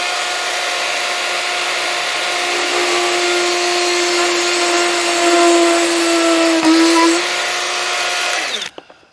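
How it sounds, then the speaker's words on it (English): A Ryobi ONE+ 18V brushless cordless rotary tool spins at full speed, about 25,000 RPM, drilling into a piece of pine, giving a loud, sustained whine that strains slightly as it bites, then winds down and stops. "No issues at all drilling into that piece of pine."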